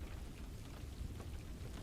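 Soft steady rain patters continuously at low volume, a gentle even hiss with faint low rumbling beneath and no voices.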